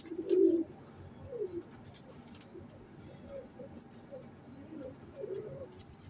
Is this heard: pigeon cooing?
yes